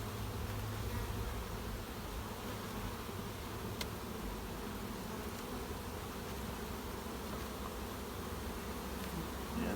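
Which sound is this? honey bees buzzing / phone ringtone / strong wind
honey bees buzzing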